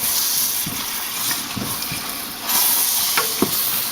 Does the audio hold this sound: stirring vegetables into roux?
yes